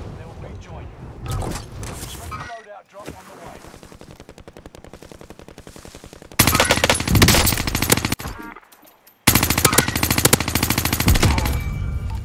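Vargo 52 assault rifle fire in Warzone, rapid automatic bursts rattling close and loud, with a pause between volleys and a longer sustained burst near the end, players talking over parts of it.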